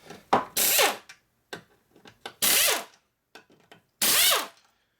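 Ratchet wrench with a 12-point socket working 12-point aircraft bolts on a Harley XL Sportster transmission, heard as three distinct bursts of rapid clicking separated by short taps and clinks, close and loud with no talk.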